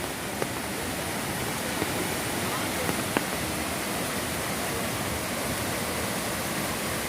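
The Phalguni river runs in full flood, a broad, unbroken roar of rushing water, steady and loud from start to finish, with faint voices in the background.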